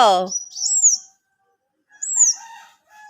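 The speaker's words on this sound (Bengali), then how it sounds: "পিওর যাওয়ার জন্য এখন তৈরি দেখ কেমনে ডাকতেছে" A baby bird, a young fledgling, gives high thin chirping calls in two short bursts separated by a pause, close and clear with no talking.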